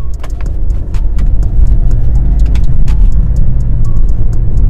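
A BMW 3 Series E46 318i accelerates in a short burst, its engine a loud, steady rumble heard close up from inside the car with road noise, with no talking.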